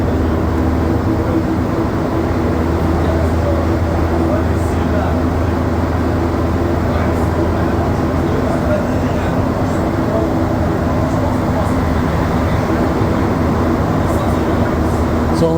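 Steady loud rumble and rolling hum of a Montreal metro train riding on the Orange Line, heard from inside the car with continuous wheel and motor noise throughout.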